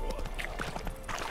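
A horse's hooves clip-clop at a steady pace in The Witcher 3, quiet and soft, with faint game sounds and voice-like noise beneath.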